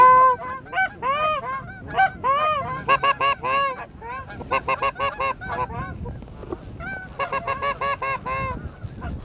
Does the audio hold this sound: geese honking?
yes